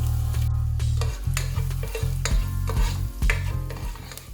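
Finely chopped ginger and garlic sizzle in hot coconut oil, with repeated scraping stirs of a spatula against the pan over a low humming tone, loud and close.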